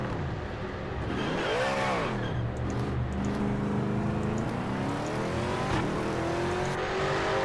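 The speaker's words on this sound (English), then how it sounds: "Love the sound of that V8." A Ford Mustang V8 race car in the Project Motor Racing video game roars continuously, its engine note sweeping up and down through revs and gear changes, loud and unbroken throughout.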